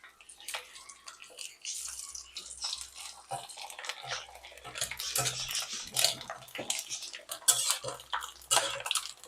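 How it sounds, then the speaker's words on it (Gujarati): Coconut copra is fried and stirred in a pan for a Surati-style poha chevda masala, with close, irregular metallic scrapes and clinks of a spoon and a soft bubbling, sizzling wash underneath. "હવે આપણે કોપરું ફ્રાય કરી લઈશું."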